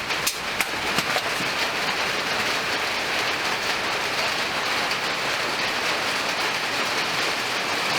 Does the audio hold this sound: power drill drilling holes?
no